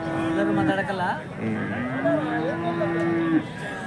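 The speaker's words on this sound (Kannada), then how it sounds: "ಪ್ರತಿ ಗುರುವಾರ ಇಲ್ಲಿ ದನಗಳ ಸಂತೆ ನಡೆಯುತ್ತೆ" Cattle at a weekly Thursday cattle market in Gandasi, Karnataka, give a long, loud moo up close, with other animals and background crowd noise around them.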